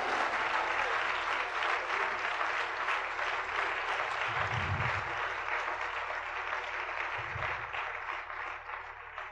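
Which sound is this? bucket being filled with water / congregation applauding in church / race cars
congregation applauding in church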